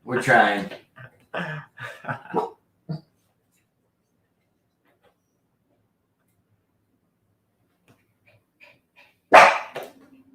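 Brief talk opens the scene during a live stream, then a long silence before a single loud, close dog bark bursts out near the end.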